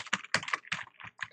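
Computer keyboard keys pressed in a quick irregular run of about eight crisp clicks, close and clear with no voice over them.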